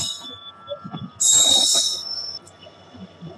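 A train pulls into a station on the Kumarganj to Malda route with rumbling, clanking wagons and a sharp burst of brake or wheel hiss in the middle that fades off, heard from nearby.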